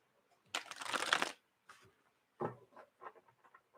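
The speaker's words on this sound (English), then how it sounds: "One more shuffle." Tarot cards being shuffled by hand, a dense papery riffle for under a second, then softer scattered card taps and slides, close and quiet with no talk.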